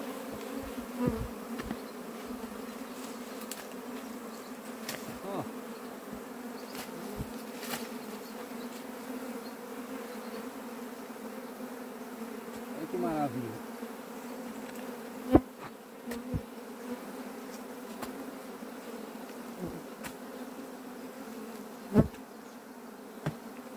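Bees buzzing steadily around a small hole in a wooden stump near a house, a continuous close drone with occasional louder passes and brief knocks, no talking.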